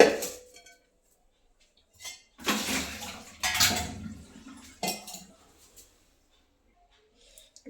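A metal cooking pot is picked up and handled, giving a few separate clanks and scrapes with quiet pauses between, close by, alongside a voice speaking at the start and end.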